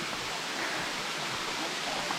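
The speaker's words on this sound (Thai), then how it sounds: "น้ำตกสลัด" The Salatdai waterfall on the Hup Khao Tin Kai trail rushes in a dense, continuous hiss of falling water, loud and close, unbroken by any talk.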